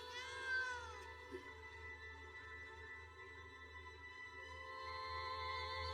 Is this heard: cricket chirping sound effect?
no